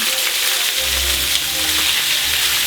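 Beef chunks browning in hot oil in a preheated pan give off a loud, continuous close-up sizzle and crackle, with no talking over it.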